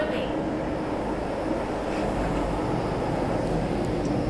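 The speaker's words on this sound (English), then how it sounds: "The train to Chai Wan is arriving." An MTR Island Line M-Train pulls into Kennedy Town station, a steady low rumble and rolling hiss that holds evenly throughout at moderate level, with faint station announcement speech mixed in.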